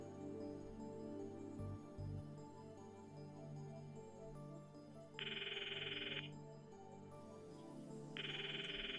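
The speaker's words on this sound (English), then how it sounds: "The ringtone echoes in my ears." In the visual novel game Steins;Gate, a phone ringtone plays in two clear bursts, each about a second long, over a quiet, steady musical backdrop.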